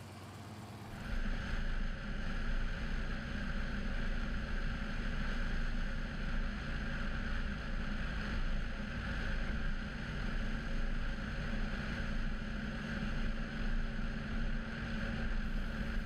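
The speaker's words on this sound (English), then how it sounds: "time to take the Toyota out for a drive" A Toyota with converted JW Speaker 8800 low-beam headlights rolls along the road, a steady engine drone and road rumble with some wind noise that rises in after the first second and stays constant and close.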